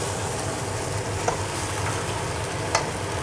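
Oil sizzles steadily in a pan as tomato chicken begins frying, a constant close crackling hiss with a couple of sharp spatters and a low background hum.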